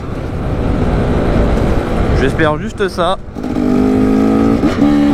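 A motorcycle ridden with a 360 camera mounted on it roars loudly close up, its engine revving up and down in rising and falling sweeps, while a rider talks over the noise.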